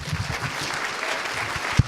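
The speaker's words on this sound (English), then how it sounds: "a round of applause for the EFF" Applause from a conference audience at the end of a talk at a hacker convention, a brief burst of clapping at moderate distance, ending with one sharp louder clap.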